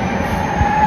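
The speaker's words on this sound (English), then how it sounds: "We're taking the train right now." A train rumbles steadily on the rails, a sustained mechanical hum with a thin whine running through it, close by and fairly loud.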